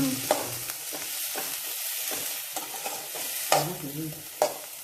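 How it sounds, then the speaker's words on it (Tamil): Tomatoes sautéing in a pan for a mint-tomato chutney, with a soft steady sizzle broken by several sharp scrapes and taps of a spoon stirring against the pan. "தக்காளி போட்டு நல்லா வதக்கணும்"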